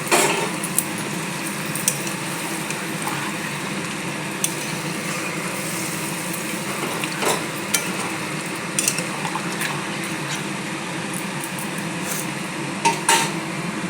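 Lid set over a pot of mutton curry cooking on the stove, low simmering sizzle with scattered metallic clinks and scrapes of the cover, near and moderate, no voices.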